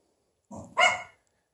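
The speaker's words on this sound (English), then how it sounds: "See, now Leo's got Stella barking at the neighbors." A single dog barks twice in quick succession, a short lower yelp followed by a louder, sharper bark, then silence.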